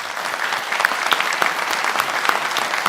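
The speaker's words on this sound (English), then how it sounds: "maybe a round of applause for this great panel" An audience applauds a panel at a conference session, a steady burst of clapping from many hands, close and dense, with no talk over it.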